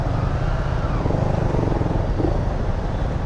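A Yamaha motorcycle of around 400cc runs steadily close by, its engine a continuous low rumble with no talk over it.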